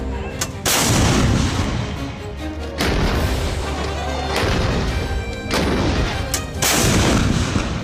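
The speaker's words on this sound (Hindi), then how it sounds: "ये बोफोर्स तोपें, जिनकी गर्जना से हिंदुस्तान के दुश्मन कांप उठते हैं" Bofors artillery guns of the Indian Army fire several heavy booming shots in succession, each blast followed by rumbling echo, loud and close with no talk over them.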